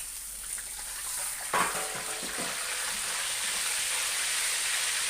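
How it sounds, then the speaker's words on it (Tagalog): Pork belly for lechon kawali frying in boiling oil, a steady bright sizzle with a brief stirring clatter early on, the crackle growing louder and denser as it continues. "Tapos hinalo ko dyan sa kumukulong mantika."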